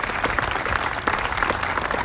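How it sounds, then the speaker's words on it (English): A crowd gives a round of applause at the grand opening of an arts center, a loud dense burst of clapping from many hands, steady and close with no talk. "Let's give a round of applause."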